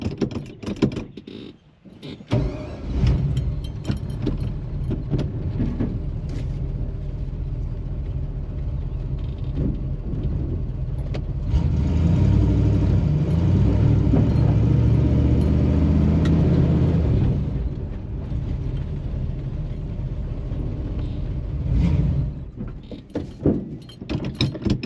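A Chevrolet Nova with a manual clutch being driven on its first run, engine rumbling and drivetrain clanking steadily, swelling louder for several seconds midway before settling back.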